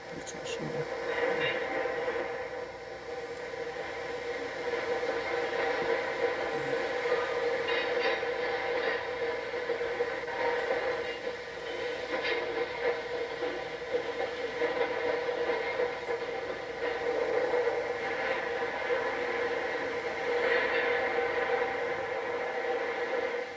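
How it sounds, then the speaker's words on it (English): A Pennsylvania Railroad freight train rumbles steadily along the tracks near Tunnel Hill with a continuous droning hum and faint rail clatter, while a narrator talks over it. "An eastbound freight also moves out from Tunnel Hill."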